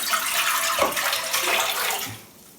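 About a litre of water pours steadily into a pan, a continuous rushing splash that tapers off near the end.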